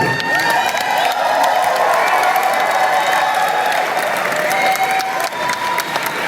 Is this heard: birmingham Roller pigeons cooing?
no